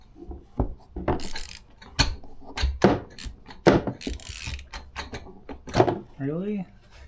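A strap wrench tightens the oil filter on a Polaris Sportsman 600 with a series of sharp, irregular clicks and scraping grips spread across the stretch, close by, with a brief voice near the end.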